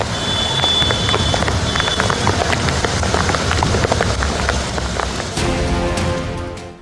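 Heavy rain pours down in Surat, Gujarat, a dense, steady hiss with scattered drip and splash hits throughout, loud and close, with a faint tonal whine near the start and a slight change in texture toward the end.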